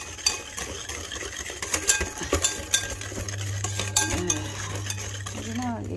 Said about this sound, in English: I honestly like the big whisk so I have more power to whisk this